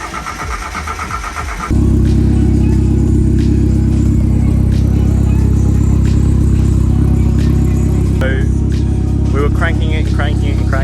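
A turbocharged wide-body Mazda Miata fires up on a dyno and settles into a loud, steady idle with a deep, even drone, and a voice briefly speaks over it near the end.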